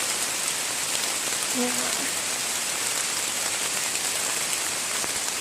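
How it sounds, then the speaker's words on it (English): Rain falls steadily on a wooded hiking trail, a dense even patter close around, with a brief word from a person partway through. "Well, obviously it's raining now"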